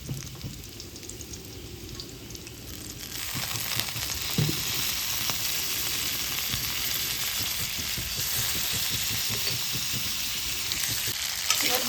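A paste of ground cumin, mustard and green chili hits hot oil in a pan; a soft sizzle swells into a loud, dense, rain-like crackle that carries on steadily up close.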